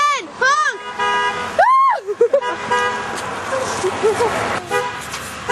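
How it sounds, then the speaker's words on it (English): A car horn honks several times in quick bursts with rising and falling tones, loud and close, while people talk and react excitedly over it. "Honk again!"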